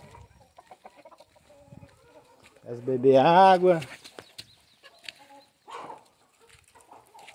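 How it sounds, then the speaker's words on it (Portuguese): A rooster crows once, loud and close, amid the quieter clucks of chickens in a henhouse, with a person speaking briefly nearby. "Olha o galo preto aí"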